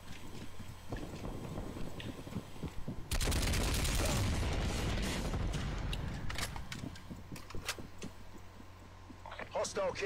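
Video game gunfire bursts into a dense, loud volley of rapid shots. It thins into scattered single cracks before a voice speaks near the end.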